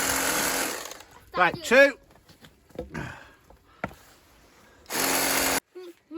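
A battery-powered bladed power tool with a weakening battery whirs in short, uneven bursts, a strong sustained burst at the start and another near the end, with people talking in between.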